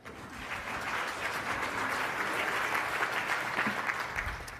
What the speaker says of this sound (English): Okay, big round of applause.